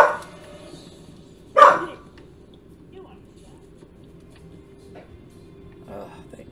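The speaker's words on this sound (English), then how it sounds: "At least her bark is a little bit lower than it used to be." One sharp dog bark stands out in the middle of a quiet room, with a few softer yips and small noises after it.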